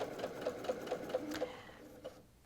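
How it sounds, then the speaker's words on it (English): A sewing machine runs a steady series of quick, evenly spaced stitches through a quilted flying-geese zipper pouch, quiet and close, slowing and stopping near the end. "Make sure everything's aligned again and start sewing."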